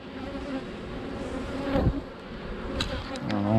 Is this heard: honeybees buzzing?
yes